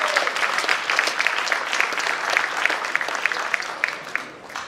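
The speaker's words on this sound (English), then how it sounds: "So they deserve a big applause as well." Gala audience applauding volunteer landmarks commissioners, a dense sustained round of clapping with crisp individual claps standing out, steady throughout and easing slightly at the end.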